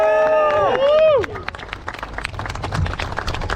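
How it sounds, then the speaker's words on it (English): Crowd applause and claps at Cadwell Park drift event honoring round winners, starting under a whistle-like tonal sweep and continuing as scattered near clapping with background chatter. "Round of applause!"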